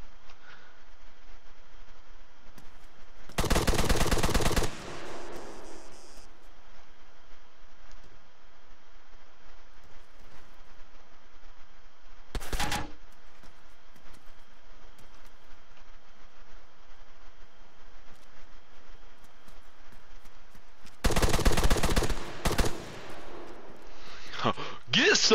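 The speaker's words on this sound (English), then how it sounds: "Hold on, I'm in the middle of a gunfight." Gunfire in an Arma gunfight: two loud, sharp bursts of shots, with one brief crack between them, over quiet game ambience.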